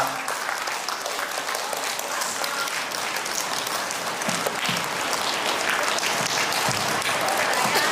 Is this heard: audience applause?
yes